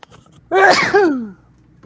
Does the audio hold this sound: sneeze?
yes